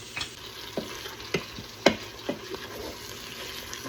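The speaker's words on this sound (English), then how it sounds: "I'm just gonna go ahead and stir it all together." Onions cook in a pan while a spoon stirs them, sending several sharp scraping knocks over a soft continuous sizzle, close and fairly loud, with no voices.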